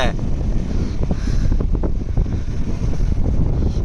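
Strong wind buffets the microphone on open water from a fishing boat, a continuous loud rumbling gust with faint splashing, while someone talks over it.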